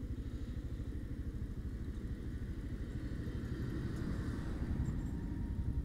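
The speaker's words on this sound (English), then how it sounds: "These tractors are getting bigger." A large farm tractor's diesel engine rumbles past on a country road, a steady low chugging that swells slightly louder toward the end, with no talk.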